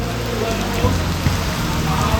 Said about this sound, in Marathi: छान पाऊस येतोय